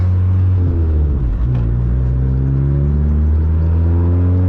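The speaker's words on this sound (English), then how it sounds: "I love the sound of this car." A turbocharged 600+ horsepower Mazdaspeed3 engine revs hard and climbs steadily in pitch, a loud, close, continuous roar as the car accelerates.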